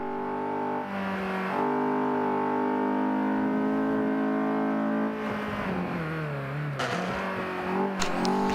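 A race car engine in Forza Motorsport 5 at Road Atlanta revs hard out of a corner, climbing steadily in pitch with a shift dip, loud and continuous, with no talk.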